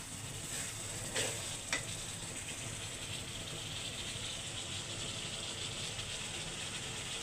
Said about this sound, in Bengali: মশলাটারে কষাচ্ছি, ভালো করে কষাইয়ে